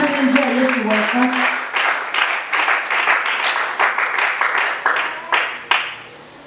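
Applause from a congregation at a Sunday church service, a steady crowd of hands clapping in a rhythmic pulse with voices and cheering mixed in at the start, fairly close and full.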